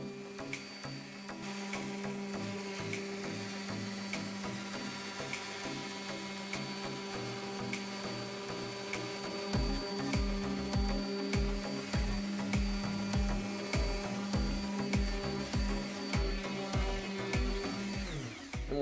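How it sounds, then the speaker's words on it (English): A power sander hums steadily while removing rust from a tool. Partway through, a rapid rhythmic grinding chatter joins the drone, loud and close, with no voices. "just leave the sander rotating on the main spots that still show some heavy rust"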